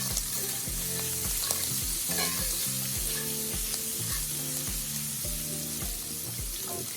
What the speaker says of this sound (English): So let this butter melt it down.